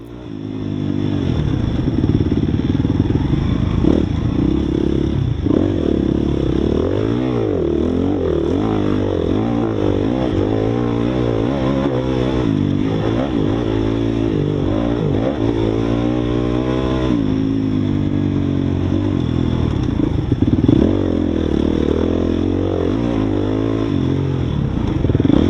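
Off-road motorcycle lapping a NORCS race course at Horn Rapids Motorsports Park, its engine loud and continuous throughout, revving up and down through gear changes with clattering and scraping over rough dirt terrain.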